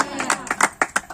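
A congregation claps in praise at a Telugu church service, a brisk run of sharp claps in an uneven rhythm with speech faintly underneath.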